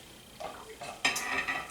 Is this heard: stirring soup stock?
yes